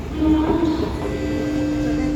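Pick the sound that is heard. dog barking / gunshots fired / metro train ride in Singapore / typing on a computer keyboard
metro train ride in Singapore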